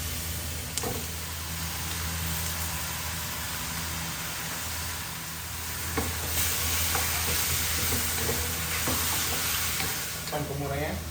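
Chicken sizzling and frying in a pan for curry, a loud, steady hiss with occasional stirring clatters and scrapes near the end.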